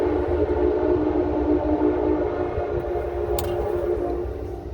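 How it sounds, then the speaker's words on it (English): A train passing on a rail track roughly 500 yards away, a steady loud rumble with a sustained horn-like tone throughout, fading slightly at the end. "Sorry about the train."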